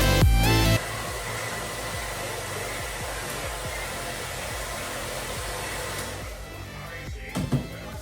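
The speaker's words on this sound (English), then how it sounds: "using my wife's hair dryer" A hair dryer blowing hot air to loosen the emblem on a C5 Corvette, a loud steady whoosh that starts at full blast, drops to a lower setting and keeps running with a few bumps near the end.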